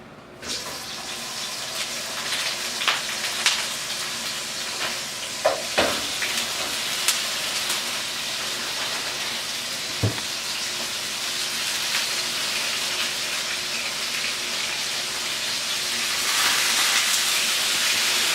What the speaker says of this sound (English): I'm just throwing a little bit of oil in the pan just to allow the pork chops to get a little color on them